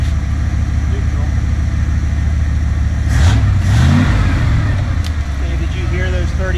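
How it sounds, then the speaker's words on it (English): A 1977 Dodge Power Wagon W150 pickup's engine, parked for 20 years, idles loudly and nearby, then revs briefly in a couple of rising bursts before settling back to a rough idle, with people talking over it. "Hey, did you hear those 38 horsepower when I did that?"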